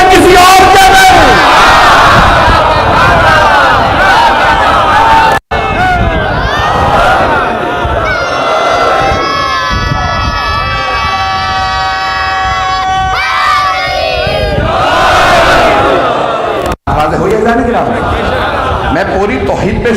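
A crowd at a majlis chants religious slogans in loud unison bursts that swell and break off, with a lone voice speaking between the chants.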